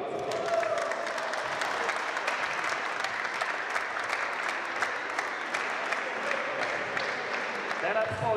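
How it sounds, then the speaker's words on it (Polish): Sustained applause from a crowd at a memorial award ceremony as cups and medals are handed out, a steady dense clapping that continues throughout with some voices mixed in. "Wielkie brawa."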